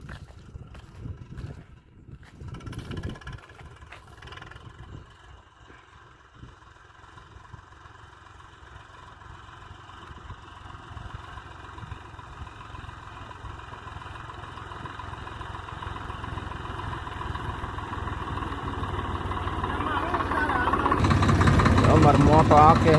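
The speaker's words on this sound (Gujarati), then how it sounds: "જો હાલ્યું આવે ટ્રેક્ટર આપણું." A tractor engine draws closer and settles into a steady idle, its low rumble rising in loudness toward the end of the clip, with people talking over it.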